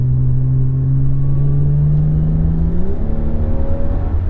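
A 2015 BMW 535xi M Sport accelerates from inside the cabin, its engine tone rising smoothly, dropping briefly at a gear change and then climbing again under a steady road rumble, with no talking.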